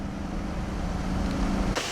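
Chevy pickup truck engine running after injector replacement, a steady close hum with broadband wind-like noise that shifts abruptly near the end.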